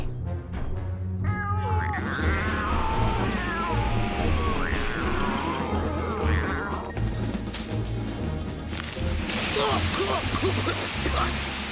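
Cartoon cat meowing and yowling in a kids' animated rescue show, several drawn-out wavering cries rising and falling over a busy music and effects bed, loud and close.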